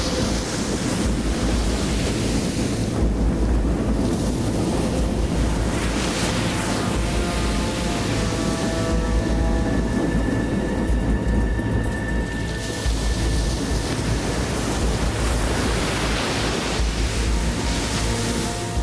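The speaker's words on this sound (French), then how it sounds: "le Pharos essuie un sérieux grain. En quelques minutes, la mer se forme." Rough sea whipped up by a squall around the Pharos vessel near a chain of islands, a continuous dense roar of wind and crashing waves with surging gusts, loud throughout and no speech.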